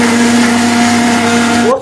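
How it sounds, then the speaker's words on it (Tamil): A mixer grinder jar whirs loudly at a steady high pitch while blending roasted oats with lotus seed powder, then winds down abruptly at the end, close and alone. "இது மிக்ஸி ஜாரில் அடிச்சுக்குவோம்."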